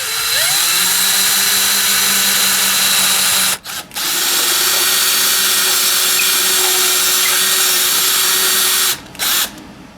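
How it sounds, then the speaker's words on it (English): A loud, high-pitched drill whines continuously while boring into the end of a wooden dowel, its pitch steady, with two brief pauses where the motor dips before spinning back up. "now we need to drill a hole here on this end of our dowel"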